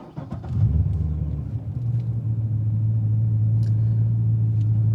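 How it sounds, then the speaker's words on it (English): Stock-exhaust Chevrolet Corvette C6 engine cranking and catching, then settling into a steady, close low rumbling idle that continues to the end. "we're in the C6. We're going to go ahead and fire it up"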